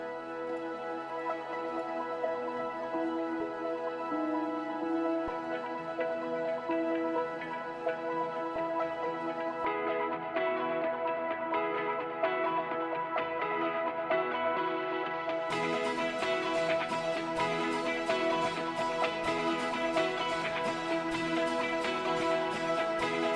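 Arpeggiated synth and ambient pad loops of an emotional progressive house track playing together, a continuous dense harmonic wash that brightens and thickens midway as a fuller top layer enters, steady level throughout, no talk.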